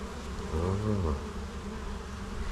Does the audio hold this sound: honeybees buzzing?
yes